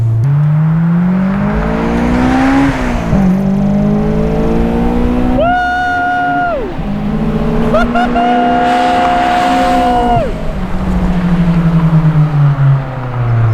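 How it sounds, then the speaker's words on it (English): A Honda S2000 on Enkei RPF1 wheels and Hankook R-S4 tires driven hard on the road, its engine droning loudly with pitch rising and falling through repeated revs and shifts, heard from close by. "After getting it out on the road and doing some really hard side-to-side action, like we're going hard on the steering"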